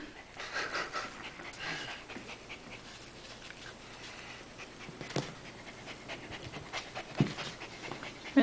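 A dog panting hard and fast indoors: rapid, breathy huffs continue steadily and up close for the whole stretch, with a few faint whimpers and no talking.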